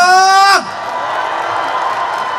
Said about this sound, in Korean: 다 같이 함성!